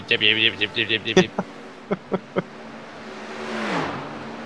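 A Ferrari race car engine in a racing video game fires off a quick series of sharp, buzzing revs and throttle blips, then a few spaced single bursts, before a fading whoosh as the car pulls away.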